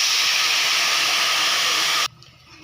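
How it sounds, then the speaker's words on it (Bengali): Water poured onto hot, well-fried masala for a mustard-poppy seed khoira hilsa fish curry sets off a loud, steady steam hiss for two seconds, then cuts off sharply to a quiet simmer. "কষানো হয়ে গেলে অল্প একটু জল দেব।"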